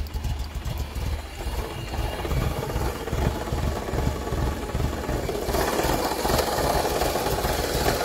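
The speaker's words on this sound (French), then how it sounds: "on peut regarder le moteur démarrer en soulevant le capot" A supercharged Peugeot 205 GTI engine runs at a steady idle under the raised bonnet, a continuous low rumble with a rough, pulsing texture that grows slightly fuller and brighter after a few seconds. No one speaks.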